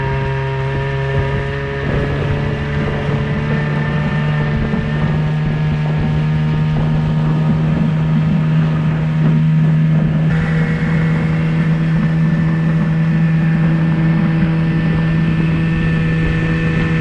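A small motorboat engine drones steadily up close, a constant hum with wind rushing across the microphone and a slight shift in tone partway through.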